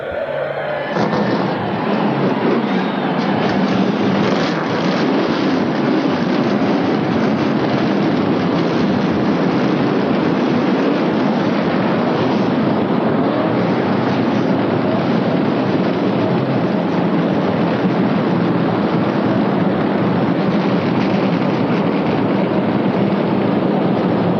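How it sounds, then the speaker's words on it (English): Stock car engines start and roar together at the 1987 Daytona 500, a loud, dense, continuous rumble that fills the whole stretch without a break. "Gentlemen, start your engine."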